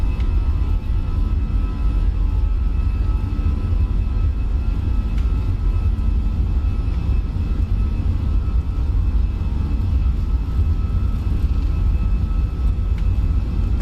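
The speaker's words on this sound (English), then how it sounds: "We're taking off." Airbus A320 taking off in Microsoft Flight Simulator 2020, a loud continuous engine rumble and roar holding steady throughout.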